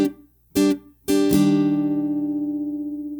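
Guitar strums a slow pattern of a few separate downward and upward strokes, close and bright. The last chord rings on and fades gently, with no talking.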